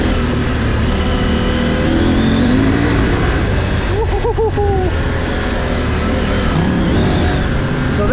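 A KTM 790 Adventure R Rally or Triumph Scrambler 1200 XE adventure motorcycle revving hard while riding, a loud continuous engine drone with rising and falling pitch and wind rush, close to the rider.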